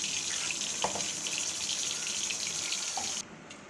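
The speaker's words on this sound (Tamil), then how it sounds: "தோல் இல்லாமல் நம்ம அந்த தண்ணியை மட்டும் இதில் ஊற்றுறோம்" Water pours steadily into a pot in a bright, splashing stream for a few seconds, then abruptly stops.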